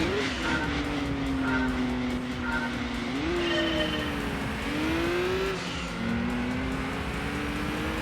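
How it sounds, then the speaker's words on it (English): A classic Nissan Skyline in the Gran Turismo 2 racing game revs hard with a continuous engine drone that rises and falls through gear changes. It stays loud and steady throughout, with other race cars audible around it. "Sounds like a classic Skyline."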